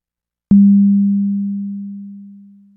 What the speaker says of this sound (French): Nous entendons que l'onde reste pure même lors de ces niveaux très faibles